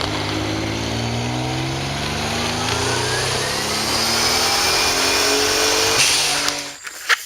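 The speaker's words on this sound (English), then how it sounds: "Do a little second gear because this is a residential area." A Nissan 200SX S12 with a turbocharged VG30ET engine pulls hard in second gear, a loud, steady rising drone from inside the car that cuts off abruptly near the end.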